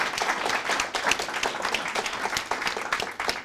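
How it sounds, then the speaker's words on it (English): An audience at an activists' panel applauds the panelists with a fairly faint, steady patter of many hands clapping, sustained without talk for several seconds. "So round of applause for Brad and Anne."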